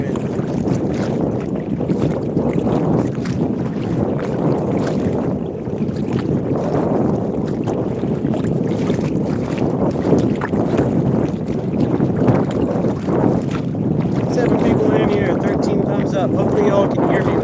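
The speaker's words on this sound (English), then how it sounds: "We are absolutely battling with this wind." Strong wind batters a boat on a lake during fishing, a loud, continuous rumbling roar of gusts buffeting the microphone for the whole stretch, with someone talking beneath the noise.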